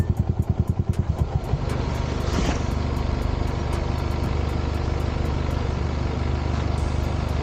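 A motorcycle riding along a street in Japan, its engine loud and close with a steady drone and pulsing at the start.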